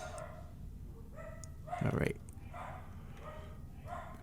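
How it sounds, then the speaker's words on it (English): Dogs bark outside at a distance in a short burst of a few yaps, with someone talking briefly nearby. "Lots of barking dogs because people are home."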